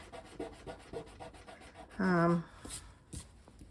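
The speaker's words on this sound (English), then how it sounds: "I'm going to use my sand eraser to erase that off." A sand eraser scrubs back and forth on paper for a stencil background, making soft, close, rhythmic rasping strokes, with a brief tonal sound briefly cutting in partway through.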